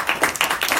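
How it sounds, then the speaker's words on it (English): Hands clap briefly and close at a talk event, a short run of about half a dozen sharp claps, fairly loud, with no voices over them. "An applause."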